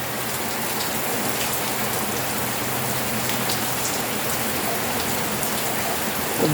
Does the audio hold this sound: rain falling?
yes